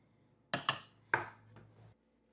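A utensil stirs a soy sauce, rice vinegar and honey garlic glaze in a pan, giving three sharp clinks against the metal followed by softer scraping, close and clear with no talk.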